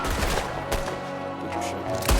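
A gunfight in Red Dead Redemption 2, with loud cracks of gunshots layered over a busy, dense combat soundscape and a final sharp report at the end.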